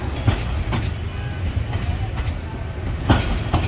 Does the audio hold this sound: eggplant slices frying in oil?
no